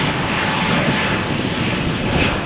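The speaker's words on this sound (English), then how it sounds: "Okay, Turkish flight is cleared for takeoff." A Turkish Airlines jet takes off from runway 13 at Malaga Airport on a stormy morning, giving a loud, sustained engine roar that stays broad and steady throughout, with no speech.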